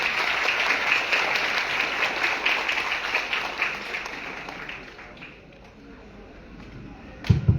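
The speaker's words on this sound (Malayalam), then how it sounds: "ഒരു കയ്യടി കൊടുത്ത് രേഖപ്പെടുത്തുന്നു അറിയിക്കുന്നു." Applause from mothers and students at a temple gathering, a dense wash of clapping that fades out toward the end before a couple of loud knocks close nearby.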